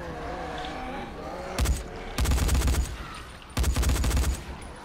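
Automatic gunfire in the zombie game Dying Light comes in three loud, close bursts of rapid shots, each roughly half a second to a second long, with quieter game ambience and a voice-like tone between them.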